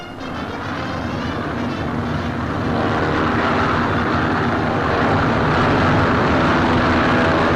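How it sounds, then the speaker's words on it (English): World War II transport aircraft take off for the D-Day invasion, their propeller engines making a loud, continuous roar that slowly builds as the planes gather speed, with no voices. "As the transports take off"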